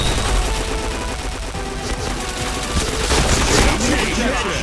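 Dense rapid gunfire from a shooting video game rattles on without a break, with loud bursts layered over a thick, noisy backdrop.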